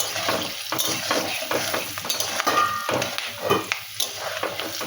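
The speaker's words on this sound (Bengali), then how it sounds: "এবারে এর মধ্যে আমি গরম মশলা দিলাম, একটু শুকনো লঙ্কা আছে, একটু তেজপাতা আছে, একেবারে তেলের উপরেই দিয়ে দিলাম" Whole garam masala spices, dried red chili and bay leaf sizzling in hot oil in a pan, a dense crackling hiss broken by scraping and stirring clatter, close and continuous, no speech.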